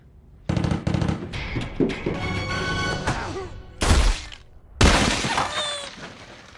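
Rapid bursts of gunfire from a film shootout crackle and bang in close, loud volleys, with two heavier blasts standing out near the end.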